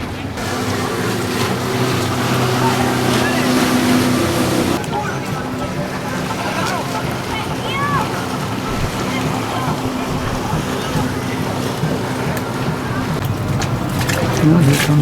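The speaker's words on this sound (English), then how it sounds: "And here's another more civilized vehicle, watercraft." A watercraft passes by on the water along a Mexican coast, its engine drone and wash blending with wind and waves as people talk over it throughout.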